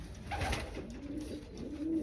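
Racing pigeons in a loft give soft, low cooing calls, a few close murmuring coos over steady background hum.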